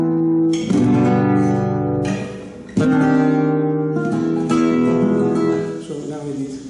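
Strummed flamenco guitar chords of an Andalusian cadence ring out in a short sequence, each chord struck firmly and left to sustain before the next.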